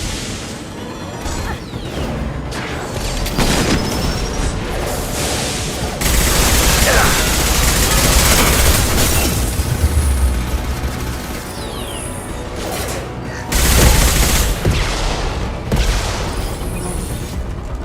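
Rocket launcher fire and explosions in the video game Mass Effect 2: heavy booming blasts and bursts of gunfire, loud and near, rising in surges over a dense battle din, with speech heard in the mix.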